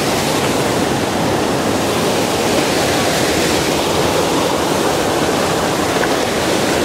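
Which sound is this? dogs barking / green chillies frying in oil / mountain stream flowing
mountain stream flowing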